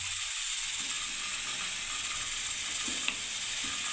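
Capsicum, onion and tomato frying in a pan on a gas stove, giving a steady, dense hiss and sizzle that runs throughout, with a faint click near the end.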